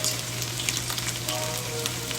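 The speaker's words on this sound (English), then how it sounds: "Ah, you hear that? That's what it said. It said sizzle." A chuck roast sears in a hot pan, giving a steady, close crackling sizzle with constant spitting and popping and no voices over it.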